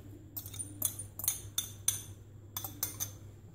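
A spoon clinking against a bowl while egg is mixed into spiced chicken, a series of about ten light metallic taps in an uneven rhythm, close and fairly quiet over a low background hum.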